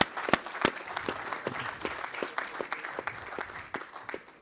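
A small audience at a startup pitch event claps, scattered distinct hand claps forming a modest, uneven round of applause at moderate volume.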